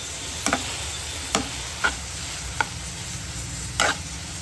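A utensil stirring food with soy sauce in a pan: five sharp scraping clicks at irregular intervals over a soft, steady sizzle, with no talking.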